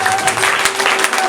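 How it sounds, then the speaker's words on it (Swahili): Dense applause fills a church gathering, a loud continuous patter of many hands clapping at once. "Makofi, makofi, makofi."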